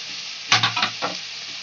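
Egg Hakka noodles with sauces tossed over a high flame, a short burst of three or four quick scrapes and clatters against a hissing pan, close and with no voices.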